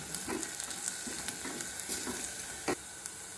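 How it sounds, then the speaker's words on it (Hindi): Steady sizzling of onions and spices frying in hot oil, with occasional soft stirring scrapes and clinks breaking through the constant crackle. "इसमें हम प्याज डालेंगे और भून लेंगे"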